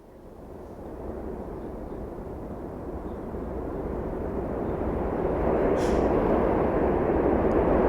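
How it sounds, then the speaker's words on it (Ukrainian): A low, rushing wind blows steadily and gradually swells louder over the stretch, a continuous broad whoosh with no talking. "А зараз ми послухаємо звук вітру"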